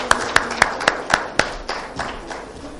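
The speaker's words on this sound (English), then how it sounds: "Give a big round of applause." A conference audience welcomes a guest onstage with a short burst of applause: a few sharp, evenly spaced claps up front, blurring into softer, scattered clapping that fades out.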